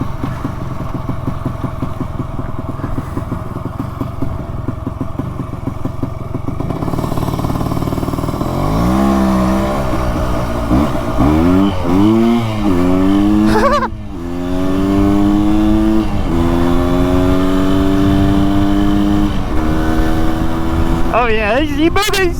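A 400cc two-stroke motorcycle engine revs hard through rising and falling sweeps, its pitch climbing repeatedly as it accelerates through the gears, loud and close, with a rider's voice partly audible beneath the engine noise.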